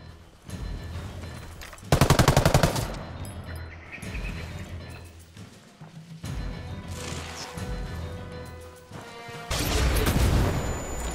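Bursts of automatic gunfire and loud impacts in Ghost Recon Wildlands, with a sharp heavy volley near the start, sustained shooting through the middle and another loud burst at the end.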